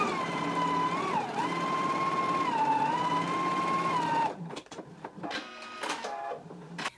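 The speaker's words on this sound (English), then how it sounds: "I'm gonna start down here at the large circle and sew up to the top of the side seam." A sewing machine stitches a dress side seam from the large circle up to the top, its motor humming in one steady whir for about four seconds before stopping, followed by a few quiet handling clicks and rustles.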